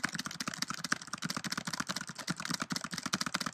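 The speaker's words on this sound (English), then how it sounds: "if I were to go in here and type a bunch of stuff" Rapid, busy typing on a computer keyboard, dense clicking keystrokes in an uneven stream, fairly close but quiet, with no talking over it.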